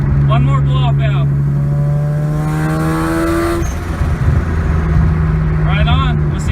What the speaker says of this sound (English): One more blow-off valve.